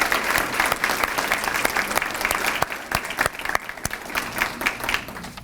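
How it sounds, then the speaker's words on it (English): A school awards ceremony audience applauds a middle school honoree with dense, sustained clapping from many hands, loud and steady throughout, tapering slightly at the end with no talk over it. "A big round of applause for Debbie Roth."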